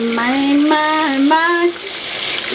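Chicken fried chicken sizzling in a frying pan after being flipped, a close, bright crackle of hot oil with a voice making rising and falling sung sounds over it before the voice drops away and the sizzle continues.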